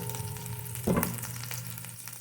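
Chili dropped into a hot frying pan while cooking Spanish mackerel in coconut milk, a continuous close sizzle with a sudden louder burst of frying as it hits the oil.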